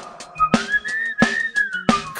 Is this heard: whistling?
yes